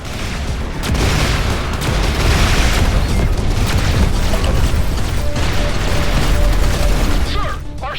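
Torpedo blasts pounding a ship in the space combat game Everspace 2: a sustained, loud rumble of booms and crackling impacts, with mechanical whirs and brief beeping tones near the end, and no voices.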